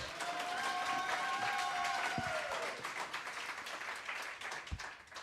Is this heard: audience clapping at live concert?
yes